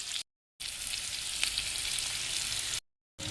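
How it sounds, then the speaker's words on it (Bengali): Potatoes seasoned with salt and turmeric fry in hot oil with a steady, close sizzle broken by short gaps of silence. "এই তেলের মধ্যে আলুগুলোকে ভেজে নেব।"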